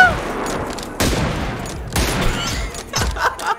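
Gunfire in the PUBG Lite team deathmatch, four loud sharp shots spaced about a second apart, each with a booming decay, with a player's voice faintly underneath.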